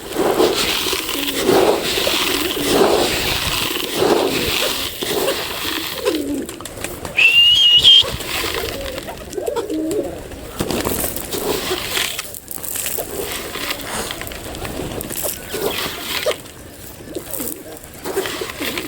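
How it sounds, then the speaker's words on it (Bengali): A Jalali pigeon that is healthy but keeps making a repeated throaty khuk-khuk sound, with soft clucks scattered over a long stretch of indoor background noise and rustling. "কবুতর কিন্তু সুস্থ, পায়খানাও ঠিক আছে, কিন্তু সবসময় খুক খুক খুক করে।"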